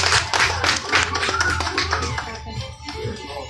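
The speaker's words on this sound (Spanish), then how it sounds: "Un aplauso, por favor, venga, aplauso." Clapping from a small audience at a children's clown and magic show, with distinct individual hand claps that build, then taper off toward the end, while voices and chatter mix in.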